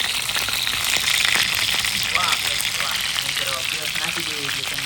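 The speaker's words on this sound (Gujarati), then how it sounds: "પાપલેટ એટલી તળાઈ ગઈ છે ને હવે આપણે કાઢી લેવાની છે તેલની બહાર" Pomfret fish frying in hot oil gives a dense, steady, close crackling sizzle, with a voice talking over it throughout.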